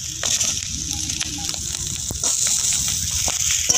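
Slit green chillies, chopped ripe tomato and capsicum hit a hot pan with a close, steady sizzle, broken by a few sharp clicks and light clatter of the spoon, no talking.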